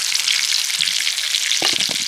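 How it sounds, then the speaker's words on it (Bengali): Potatoes frying in hot oil in a kadai give a steady close sizzle throughout, with a few soft low knocks near the end. "আলুটা ভালো করে ভেজে নিয়েছি"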